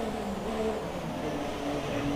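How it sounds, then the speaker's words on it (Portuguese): Race car engine in F1 2017, held in a steady droning whine at the pit lane speed limit of 60 km/h, continuous and fairly loud with no talking over it. "o carro tá acelerando sozinho"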